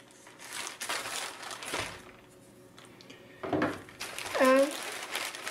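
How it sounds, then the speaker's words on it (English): A Seeed Studio XIAO expansion board is pulled from its plastic packaging with close, crinkling rustles and cuts, while someone talks between the bursts. "Let's start with the first step, the unbagging."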